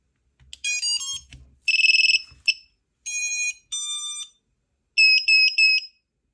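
An iFlight Nazgul Evoque F6D drone powers up with a series of loud, high electronic beep tones in short bursts and tonal chirps, with some low handling noise near the start.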